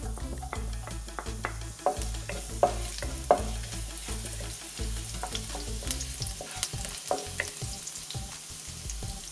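Garlic sizzles and spits in a hot pan for Kerala-style egg fried rice, a steady loud frying hiss broken by repeated clanks and scrapes of a spoon stirring against the metal.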